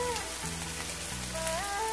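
Prawn theeyal masala sautéing with salt in a pan gives a dense, even crackling hiss like light rain, heard alone with faint sustained musical tones underneath.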